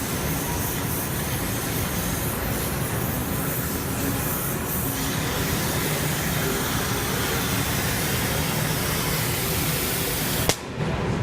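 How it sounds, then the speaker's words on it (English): An HHO torch burns with a steady, loud roaring hiss while heating metal for soldering, continuing unbroken for several seconds before a sharp click near the end. "Wherever I put the torch, the solder will follow."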